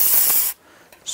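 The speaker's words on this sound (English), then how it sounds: "Use some spray solvent," Solvent cleaner sprays onto a front brake part of a 1994-2004 Ford Mustang as a loud, steady hiss lasting about half a second, then cuts off, leaving faint noise and a brief later rustle.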